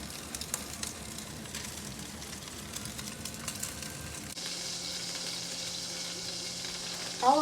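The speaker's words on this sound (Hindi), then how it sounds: "अब हम कबाबों को प्याज और टमाटर में फ्राई करते हैं।" Seekh kebabs frying with onion and tomato in rendered mince fat, a steady close sizzle with a brief stir at the end and no talking.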